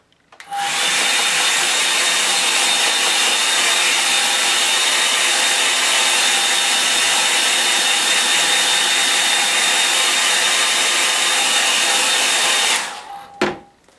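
A hair dryer blows steadily at close range over a wet watercolour painting of a rocky shore with cottages, a loud continuous whir that runs unbroken for about twelve seconds before it is switched off with a short clunk.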